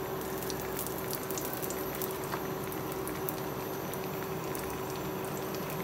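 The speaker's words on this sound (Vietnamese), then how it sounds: "Rồi dầu đã sôi mình bỏ chả giò vô ha." Large Vietnamese spring rolls (chả giò) dropped into hot, already boiling oil and frying with a steady, dense crackling sizzle throughout, close and continuous with no talk.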